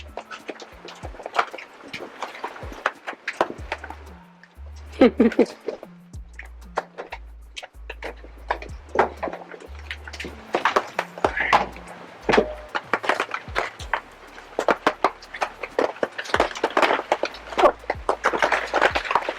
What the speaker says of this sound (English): Oh, it's hail.